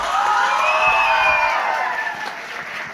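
Students clapping and hooting at a school farewell party for the 2025-2026 batch, a dense steady wash of crowd applause with cheering and whistle-like calls throughout.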